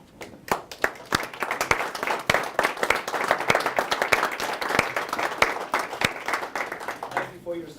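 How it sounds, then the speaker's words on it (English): An audience at a congressional listening session applauding veterans, a dense, steady wash of many hands clapping loudly for several seconds before tapering off at the end. "Veterans remain standing with show them a round of applause"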